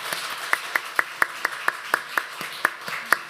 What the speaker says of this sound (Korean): 박수하셔도 되겠습니다.